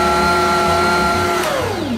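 A stand mixer kneads wheat bread dough at a higher speed, giving a steady loud motor whine with a constant hum and a pitch that drops slightly near the end, with no talking.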